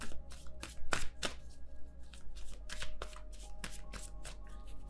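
Tarot cards being shuffled and drawn by hand, with close, crisp riffling and sharp slaps of cards landing in an irregular rhythm against a low background hum.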